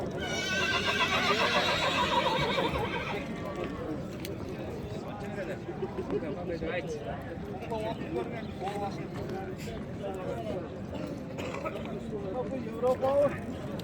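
A horse at a livestock market gives a loud, drawn-out whinny at the start, followed by hoof clops and busy ambient market noise while people talk nearby.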